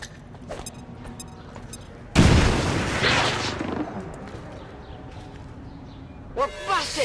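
A grenade goes off in a heavily modded XCOM game, a sudden loud boom that rolls into a long fading rumble, followed a few seconds later by short electronic game effects.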